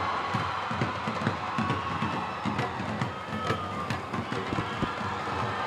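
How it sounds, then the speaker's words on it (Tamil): A stage-event audience cheers for actor Jayam Ravi with dense, sustained applause, scattered shrill whistles rising out of the crowd noise throughout. "கரகோஷம் விசில்கள்"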